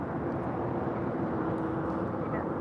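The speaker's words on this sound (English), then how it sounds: "Airlines 1048 taking off to Denver on a 787-9 Dreamliner" A United Airlines Boeing 787-9 Dreamliner takes off at LAX, a steady broad jet engine roar heard from a distance that stays even throughout.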